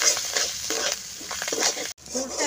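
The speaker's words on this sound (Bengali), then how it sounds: "আমি পেঁয়াজ, রসুন আর আদাটাকে একটু ভাজা ভাজা করে নেওয়ার পরে এই কুচিয়ে রাখা ধনেপাতাটা দিয়ে দিচ্ছি।" Onion, garlic and ginger frying in a pan as chopped coriander leaves go in, giving a steady close sizzle with irregular stirring scrapes and a brief gap near the end.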